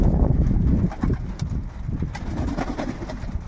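Pigeons in an aviary after salmonella and pox vaccination give low, soft coos against a busy rustling background, close and steady with no talk.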